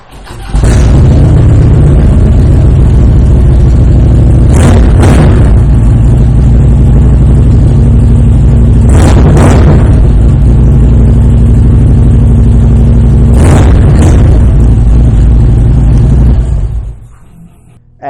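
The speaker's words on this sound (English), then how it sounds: "I am going to take the opportunity real quick to fire this bike up so you can hear that true dual" A 2014 Harley-Davidson Street Glide with true dual exhaust rumbles loud and close at a deep idle, with three sharp throttle blips spaced a few seconds apart, before the engine cuts off near the end.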